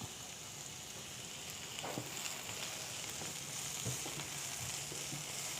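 Vegetables sautéing gently in a pan with a pinch of salt: a soft, steady sizzle with a few light taps and scrapes of a spoon, faint and close, with no talking.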